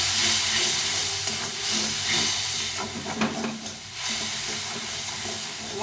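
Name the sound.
sautéing spice paste with water in a pan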